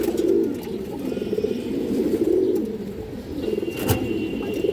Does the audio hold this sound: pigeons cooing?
yes